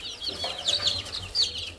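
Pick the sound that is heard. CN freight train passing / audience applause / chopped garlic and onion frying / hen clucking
hen clucking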